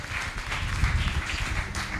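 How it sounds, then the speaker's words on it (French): Church congregation applauding during a French-language worship service, a dense steady wash of clapping with a low rumble underneath, sustained for the whole stretch. "Est-ce que nous pouvons applaudir pour le Seigneur?"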